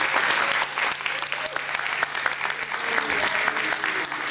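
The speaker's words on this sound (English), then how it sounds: "let's give them a big round of applause" An audience at a harm reduction dinner applauds the event's providers, dense and sustained clapping filling the room throughout at a steady, fairly loud level.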